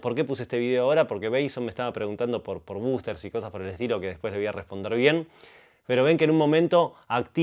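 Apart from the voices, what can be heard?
None of the usual background noises is heard.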